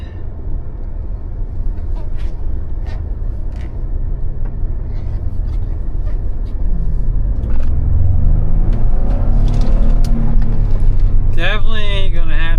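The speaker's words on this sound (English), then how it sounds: "let's go for a little test drive and see if we can hear it inside the vehicle" A car drives with a newly installed turbo pipe and cold air intake, its engine rumble building steadily from inside the cabin, with a person talking over it and a brief squealing burst near the end.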